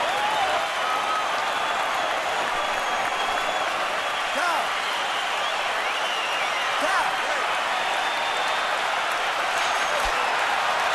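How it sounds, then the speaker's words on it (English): Boxing fans cheer at the Floyd Mayweather Jr. vs Miguel Cotto fight in a large arena, a constant loud crowd roar with whistles and shouts swelling at moments, under announcers' commentary. "those cheers you hear in the background are fans cheering the blood on Mayweather"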